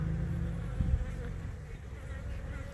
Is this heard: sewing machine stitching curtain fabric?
no